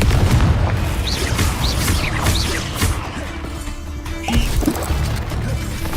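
Confringo blasting-curse explosions go off in Hogwarts Legacy combat, heavy booming blasts and crashes layered over dense battle noise, with rising whooshing spell effects throughout.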